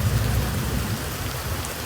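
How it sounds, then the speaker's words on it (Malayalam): Heavy rain pours with wind aboard a Fort Kochi ferry, a dense, loud, unbroken roar of drops and gusts with low rumbling underneath and no voices. "ജങ്കാറിൽ കയറുമ്പോഴേക്കും കനത്ത മഴയും ചെറിയ കാറ്റും തുടങ്ങി"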